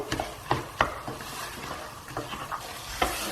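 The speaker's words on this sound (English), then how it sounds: "So I'm just going to stir that dal through for about a minute or so." A spoon stirs dal through spices in a hot pan, making irregular scraping clicks over a continuous sizzle and frying hiss, close and moderately loud.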